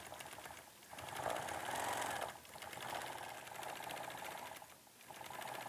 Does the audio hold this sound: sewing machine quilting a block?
yes